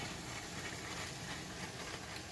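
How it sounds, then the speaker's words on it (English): Continuous rushing hiss of steam escaping through a small hole in a titanium cooking pot lid while rice cooks, close and steady, with no pauses or voices. "you feel the steam shooting out that little hole"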